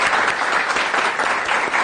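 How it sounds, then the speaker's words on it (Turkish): Steady applause from a lecture audience, dense clapping sustained throughout without a break. "alkışlarla devam edelim."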